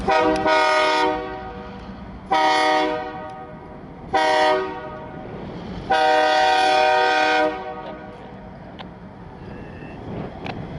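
A CN freight train horn, locomotive 568, blasts four times, long, long, short, then a longer final blast, loud and close over rumbling background noise.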